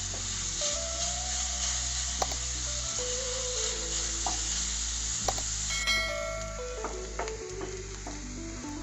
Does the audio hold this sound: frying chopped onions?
yes